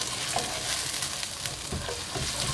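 Garlic sizzles steadily in a skillet while a utensil stirs it, a soft, continuous crackle with light scraping taps and no voices.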